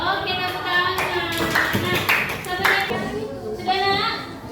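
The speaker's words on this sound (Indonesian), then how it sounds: "Oke, tepuk tangan." A group claps at a teachers' classroom presentation session, brisk scattered hand claps blending with children's and adults' voices talking over them.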